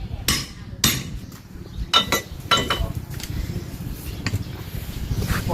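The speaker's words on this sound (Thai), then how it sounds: "ใช้ค้อนเนี่ยตอกลงไปเพื่อที่จะให้มันล็อก" Several sharp metallic hammer taps on a motorcycle front fork hex nut ring out at irregular intervals over a steady low rumble in the background.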